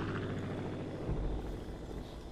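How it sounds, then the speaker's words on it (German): A helicopter in the Far Cry 5 game thrums with a low, steady rotor chop that swells slightly partway through, with no talk over it. "Das ist ein Hubschrauber, ne?"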